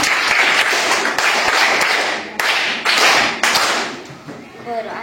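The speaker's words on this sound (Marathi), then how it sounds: "यासाठी सगळ्यांनी टाळ्या वाजवायच्या." Schoolchildren at a Zilla Parishad primary school in Dahiwal clap together in a loud, dense burst of applause that stops abruptly and restarts several times, the last round fading.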